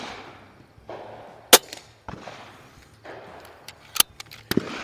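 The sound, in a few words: Buck Rail Notos air rifle firing Crosman Premier hollow point pellets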